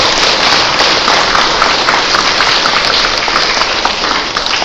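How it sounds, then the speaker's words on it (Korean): Loud, sustained applause from a church congregation thanking a priest after a confirmation lecture, dense and even clapping from many hands filling the room throughout, with no speech. "다시 한번 신부님께 감사의 큰 박수를 부탁드립니다."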